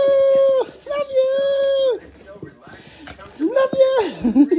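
A chihuahua whimpers and whines in high, drawn-out cries, two long whines followed by a rising, wavering one, loud and close, with a person cooing nearby between them.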